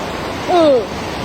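Flash flood water rushing across the road into Kasi town, Vientiane Province, a steady broad wash of flowing water with a brief voice rising over it midway.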